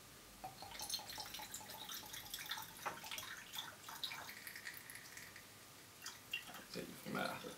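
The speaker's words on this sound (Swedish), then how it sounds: "Och så fyller vi på med 100 ml vatten." Water poured slowly through a funnel during a chemistry demonstration, 100 ml at a time; a steady trickling and dripping runs throughout, with faint splashes and louder gurgling near the end.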